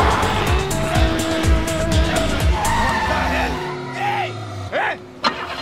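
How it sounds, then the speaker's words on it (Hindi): A car in a comedy film skidding and braking hard to a stop, loud tire squeal over a rumbling engine that cuts out, followed by brief quiet thumps. "क्या हुआ, गाड़ी क्यों रोक दी?"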